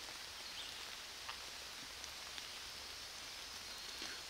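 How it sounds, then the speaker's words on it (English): Steady rain pattering on forest trees on a muggy, warm morning in Pennsylvania, a dense soft hiss with occasional louder drips, continuous and fairly close throughout. "it's starting to rain, so we can't hear, all we can hear is raindrops hitting the trees"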